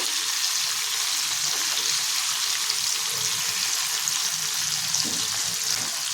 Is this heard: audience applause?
no